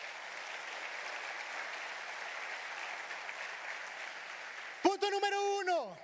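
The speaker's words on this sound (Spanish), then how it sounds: "Dale un aplauso a tu padre." Church congregation applauding during a sermon, a steady wash of clapping at moderate level that is cut off by a voice speaking near the end.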